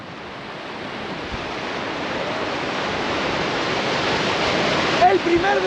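A river in the Peruvian mountains rushes past in a loud, continuous roar of flowing water, with steady broadband noise and some wind buffeting on the microphone near the end.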